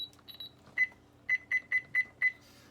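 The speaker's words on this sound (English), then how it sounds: "they kept the button beeps on this" RadioShack 12-258 weather radio from 2003 giving a run of short, sharp electronic button beeps, about six evenly spaced chirps close up in a quiet room.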